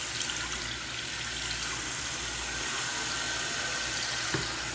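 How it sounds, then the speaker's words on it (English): Toilet cistern refilling after the water supply is turned back on, a steady, close hiss of water flowing into the tank that runs evenly throughout with no talking. "You can see the water filling up."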